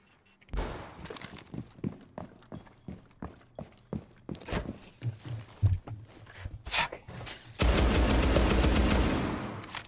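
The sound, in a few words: gunfire in a shooter video game match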